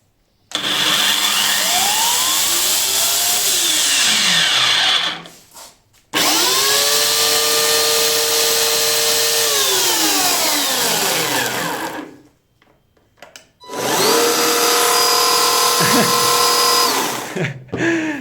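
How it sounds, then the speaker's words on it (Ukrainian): Three loud electric chainsaws, one battery-powered, run one after another, each whining up to speed, holding a high steady drone, then cutting off before the next starts. "ми по черзі зараз включимо кожну пилу"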